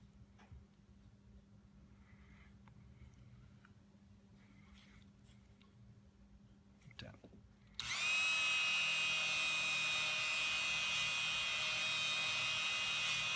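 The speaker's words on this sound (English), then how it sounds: "they're just buffing pads for a Dremel tool." A Dremel tool fitted with non-abrasive buffing pads polishes a Glock 21 trigger part; after a quiet stretch with faint handling clicks, the tool starts suddenly and runs as a loud, steady high whine to the end.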